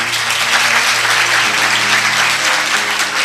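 A church congregation claps through a sermon, a thick, even wash of many hands close by, sustained throughout with a faint low hum underneath and no talking.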